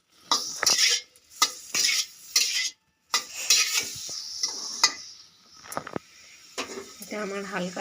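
Boiled broccoli is sautéed in butter in a pan, with a spoon scraping and clinking against the metal in short bursts between pauses and a soft sizzle underneath, close by, with no talking.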